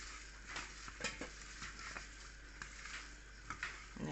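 Soya chunk pakoda batter with cornflour is stirred briskly in a bowl, a quick run of soft wet scrapes and clicks in a steady rhythm, close and fairly quiet with no voices.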